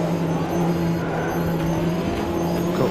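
P1 race car in the Automobilista 2 racing game, a loud continuous engine whine with steady tonal drone, slight tire noise and pitch shifts as the car brakes, heard close with no talking.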